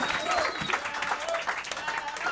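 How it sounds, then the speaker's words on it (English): A comedy roast crowd claps and cheers in a continuous burst of applause, dense and close, with voices shouting and talking over the clapping. "Clap your hands."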